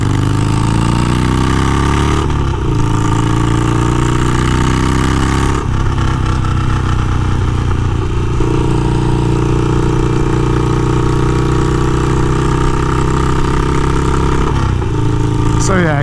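Harley-Davidson Sportster 48 motorcycle cruising on the highway, a loud, close engine drone with a rumbling low tone that shifts pitch several times as the revs change, under heavy wind noise.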